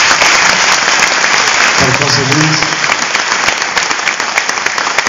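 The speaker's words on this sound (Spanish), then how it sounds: "yo quiero pedir un fuerte aplauso" Loud, dense audience applause at a public ethics gathering, sustained throughout with a voice briefly calling out over the clapping midway.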